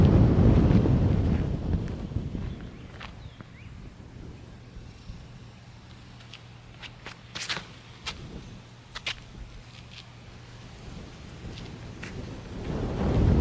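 Gusty wind buffets the microphone outdoors on a disc golf course, a steady low rumble that swells and fades, loudest at the start and end, with a few brief sharp knocks in between and no talking.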